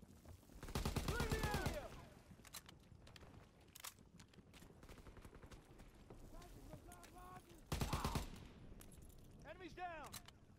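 Gunfire in the Call of Duty WW2 campaign mission at Hill 493: two loud bursts of rapid shots and scattered single cracks over game noise, with voices talking in between.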